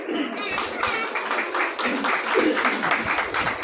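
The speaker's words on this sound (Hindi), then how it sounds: "भाई शौकत के लिए जोरदार तालियां," A church congregation applauds at a worship service, steady dense clapping with cheering and voices mixed in throughout, fairly loud and close.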